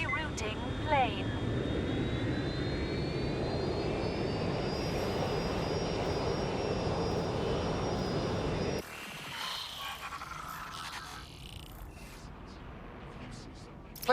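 An airplane from the video game Watch Dogs Legion drones steadily with a rising engine tone for several seconds, then the roar cuts off abruptly into quieter ambience.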